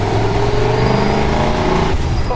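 1929 Ford truck hot rod, about 1,250 pounds, with a strong engine driving fast, giving a loud, steady engine drone with rumbling low harmonics that hold close and constant throughout.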